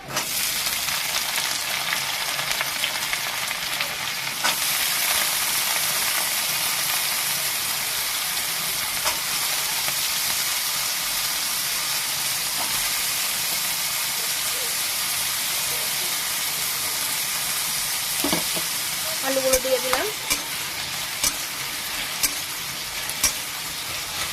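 Sliced onion and potato sizzle steadily in a pan while being stir-fried for chira pulao, a broad continuous hiss with occasional scraping clinks of the spatula near the end.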